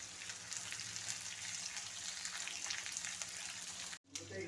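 Shallots or onions, chili and curry leaves frying in oil in a pan for pepper chicken, a close, even sizzle with faint stirring, steady throughout before a brief cut near the end.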